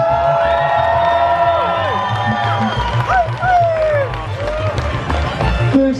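Winners at the Dutch Stream Awards are cheered by a crowd, with loud whoops, shouts and whistles over steady crowd noise, and voices heard throughout.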